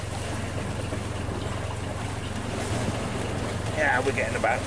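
Strong wind, around 17.5 knots, blows over a sailboat at sea on the Bay of Biscay: a constant, close, blustery rush with low water and hull noise underneath, and brief creaks or rigging sounds near the end.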